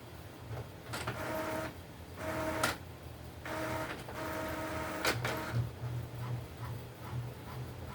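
An inkjet-style printer feeds and prints onto tea bags in a steady, mechanical run. Bursts of whirring carriage movement alternate with short pauses, and a clicking paper-feed sound keeps going near the mic the whole time.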